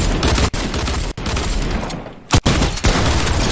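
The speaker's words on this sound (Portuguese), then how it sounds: "Já tem uma carrada de tiros!" Video game gunfire roars in a dense, loud fusillade of rapid shots with a few brief pauses and sharp blasts, close and overwhelming.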